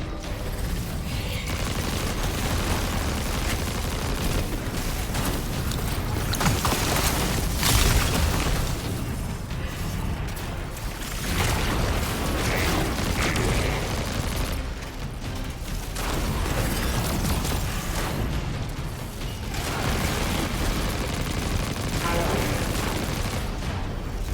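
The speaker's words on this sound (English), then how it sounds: "So this is like a double shot. Shotgun." Shotgun blasts and explosions from Destiny 2: The Edge of Fate fire in dense, loud, repeated bursts over continuous game noise, with swells of rumbling impacts throughout.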